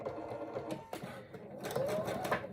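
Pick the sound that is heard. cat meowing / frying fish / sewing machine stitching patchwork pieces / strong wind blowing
sewing machine stitching patchwork pieces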